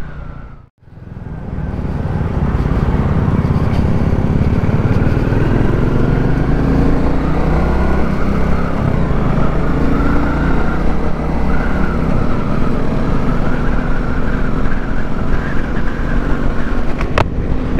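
A Royal Enfield Classic 350 motorcycle cruising on a highway, its engine a loud, steady, continuous drone mixed with heavy wind rush, holding constant throughout after a brief dip at the start.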